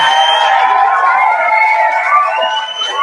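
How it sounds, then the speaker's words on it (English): A crowd cheers and shouts with overlapping voices and whoops in a continuous, loud roar, with little distinct clapping audible beneath the cheering. "let's give a round of applause for what we've been able to accomplish so far"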